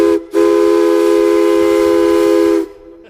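A steam train whistle at Amherst blows one loud, steady, shrill tone after a brief opening toot, held for over two seconds before cutting off, close and alone.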